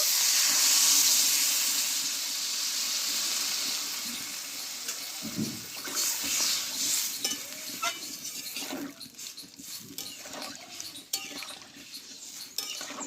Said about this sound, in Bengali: এখানে আমি কিছুটা গরম জল দিয়ে দেব